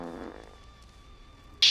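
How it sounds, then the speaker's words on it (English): A short fart buzzes at the start, followed by a quiet, thin tonal hum and then a sudden bright burst right at the end. "That's a fart that's like in the covers."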